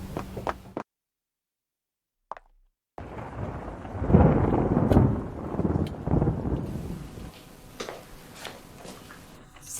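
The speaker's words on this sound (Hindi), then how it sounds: "बारिश होने लग गई है" Heavy rain falls with rumbling thunder. A brief silent gap gives way to a dense, loud wash of downpour and low rolling rumble that continues steadily, with no talking.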